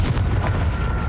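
A Confringo fire-spell blast from Hogwarts Legacy bursts as a loud, thick, booming rush with a few sharp crackling hits, brief and up close, with no speech.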